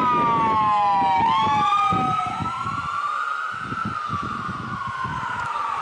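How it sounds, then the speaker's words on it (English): An ambulance siren wails loudly as it passes, its rising and falling tone sweeping down in pitch after about a second, with steady street traffic rumbling underneath throughout. "Wait till the ambulance goes by."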